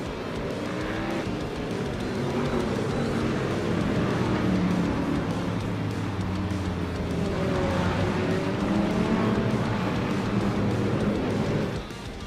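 GT3 race cars in a racing video game roll two by two behind the safety car at Interlagos, a loud, steady layered engine drone holding constant for the whole stretch before easing off at the end.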